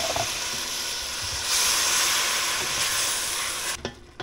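Fire roasted diced tomatoes sizzle in a chili pan, a steady broadband hiss and frying crackle that swells midway and cuts off abruptly near the end, with no talking over it.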